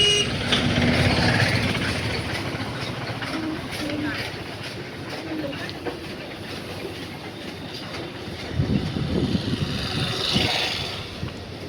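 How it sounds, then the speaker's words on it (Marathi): Large trucks rumble past on a road near Madhe Vadgaon with heavy engine noise and horn toots, loudest at the start and again near the end, while voices talk underneath. "खूप मोठ्या मोठ्या गाड्या येत आहेत."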